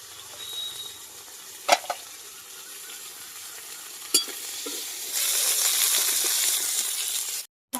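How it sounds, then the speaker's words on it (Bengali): Salted drumsticks fry in fish oil, a soft sizzle with a few sharp clinks of a utensil, swelling into a louder, denser crackle in the later seconds before stopping abruptly. "ভেজে নেব সজনে ডাঁটাটাকে।"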